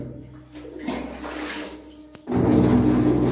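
Water pouring forcefully from a height onto a screen-printing screen to wash it out, a steady rushing splash that swells louder and fuller near the end, with no talk.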